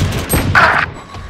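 Spectre submachine gun fire in the tactical shooter Valorant, a short, loud burst of rapid shots that ends abruptly.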